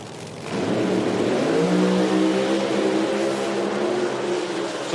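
Two Pro Mod drag race cars launch side by side at an IHRA qualifying event, a loud, sustained engine roar whose pitch climbs steadily as they accelerate away, with no voices.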